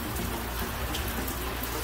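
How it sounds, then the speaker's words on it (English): Steady, dense rain hisses without a break, a broad wash of noise with faint scattered drops, continuous and fairly close. "here is a look at the rain outside."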